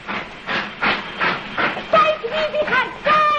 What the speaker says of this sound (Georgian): აი მატარებელი